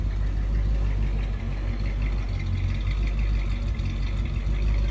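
A 1961 Cadillac Series 62 Coupe engine idles with a steady low rumble and a faint rhythmic knock through a stock exhaust, running on its own with no talk.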